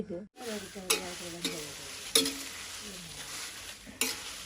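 Red chillies dry-roasting in a pan, a low faint crackle under a few sharp scraping stirs and spoon clicks spaced a second or two apart.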